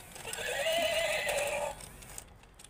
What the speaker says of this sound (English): beautiful horse, battery operated horse